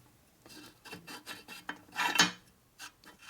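Rasping strokes of abrasive paper rubbing by hand over a welded 1947 Harley-Davidson EL Knucklehead metal engine case, in short uneven bursts with one louder, longer scrape in the middle.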